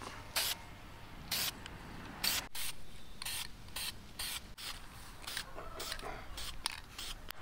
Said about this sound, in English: I'm going to try and spray paint this sucker.